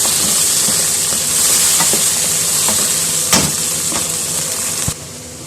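Onions already browned in a pan frying on with tomatoes just added, a steady loud sizzle and hiss with occasional stirring scrapes and clinks, no voices.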